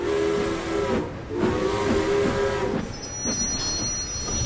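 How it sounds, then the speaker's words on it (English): Cartoon steam engines on an island railway toot their whistles, a loud steady chorus of sustained whistle tones over a rumbling train background, with short breaks between blasts and no talk. "The three engines tooted and hooted with happiness."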